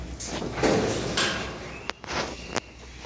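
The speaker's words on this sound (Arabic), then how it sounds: "نفتح الباب" A door swinging open at an indoor bird aviary housing canaries, rosellas and other tame birds, with a sliding scrape and a couple of sharp clicks or knocks near the end.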